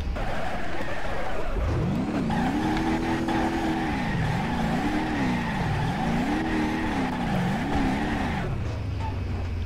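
Rear-engine drag semi truck in the BeamNG Drive video game revving hard with tires spinning, a loud engine tone rising and wavering repeatedly for several seconds, then settling to a steady idle.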